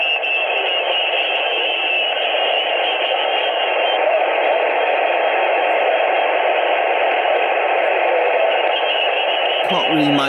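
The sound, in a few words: weak amateur radio station mixing with adjacent stations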